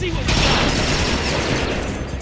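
Rapid continuous gunfire from the video game Transformers: Rise of the Dark Spark, a loud, dense burst of automatic shots that fills the whole moment, with a voice briefly heard at the start.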